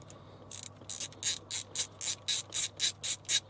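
A ratchet wrench clicks steadily while bolts are removed on a Land Rover Defender 90 during a quickshift install, giving about ten quick, evenly spaced bursts of close metallic ratcheting.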